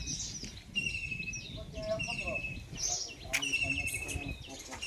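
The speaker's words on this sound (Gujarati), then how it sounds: "પક્ષીનો અવાજ" Several bright, high-pitched bird chirps and whistled calls repeat near a neem tree over a steady outdoor background with some low rumble, fairly close and clear.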